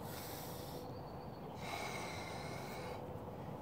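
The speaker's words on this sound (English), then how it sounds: "Nice rhythmic breathing as you do this." Rhythmic breathing during a stick shoulder mobility drill, drawn in through the nose and pushed out through the mouth, close and steady with breathy snort-like pulses and no talking.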